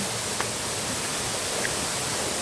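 Waterfall roaring as a dense, steady broadband wash of falling water, constant and close with no pauses or voices.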